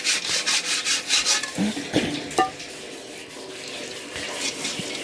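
Water splashing and sloshing as it is poured over a person, with a few rubbing, scraping touches in between; fairly close and steady, no talking.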